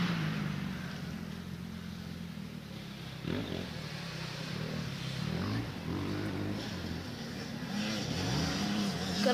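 Race cars drive around and rev their engines, a steady motor drone with rising and falling pitch sweeps as they accelerate, moderately close and continuous throughout.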